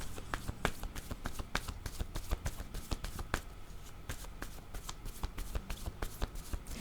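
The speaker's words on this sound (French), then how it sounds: "Je vais demander une carte pour l'enfant." Playing cards are shuffled and drawn for a tarot-style reading, giving dense rapid riffling and flicking with sharp card snaps close up, with no talking.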